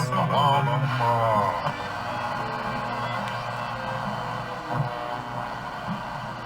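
A restored 1935 Atwater Kent Model 456 radio tuned to a station plays a steady broadcast of music and voices, fairly loud and continuous, with a busy, crowd-like texture throughout.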